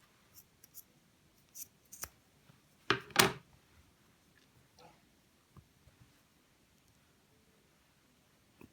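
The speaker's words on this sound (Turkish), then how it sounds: "İpi buradan kesiyorum." Scissors snip through cotton jersey yarn while a crochet bag is being made, a few quiet scattered clicks and light rustles with one sharper, louder cut in the middle amid near silence.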